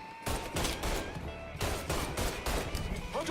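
Dense rapid gunfire in the video game Mafia 3, loud bursts of automatic shots rattling almost continuously with brief gaps, close and harsh.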